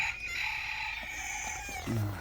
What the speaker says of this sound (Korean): 이제 닭도 또 아침 밥 달라고